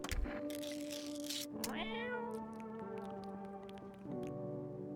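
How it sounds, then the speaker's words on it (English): Cartoonish cat meows from the No, I'm not a Human video game, several bright harmonic mews in a row over a steady game music bed, fairly close and clear. "Hello, kitty. Feed the cat some canned food."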